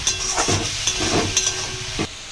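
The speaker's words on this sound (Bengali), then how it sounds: "যতক্ষণ না গন্ধটা যাবে ততক্ষণ তেলের মধ্যে ভালোভাবে নেড়ে ভেজে নিতে হবে।" Ginger, garlic and chili paste sizzles and fries in hot oil in a pan for a Bengali fish curry, with steady crackling broken by several scraping stirs of a spatula, close and fairly loud.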